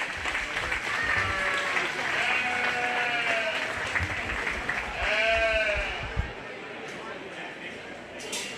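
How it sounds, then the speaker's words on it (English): Applause for the supreme and reserve supreme champion crossbred ewes at a 4-H/FFA sheep show. Steady clapping fills the arena while sheep bleat repeatedly over it, and the clapping fades out near the end. "Go ahead and give them a round of applause."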